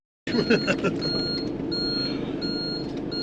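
An old scrap bus in reverse gear sounds steady repeating reversing beeps over a rumbling engine, close by, with someone talking.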